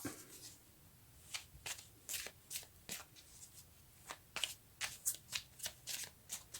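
Tarot cards are shuffled by hand, giving a rapid series of soft riffling snaps in a steady rhythm, close and fairly quiet.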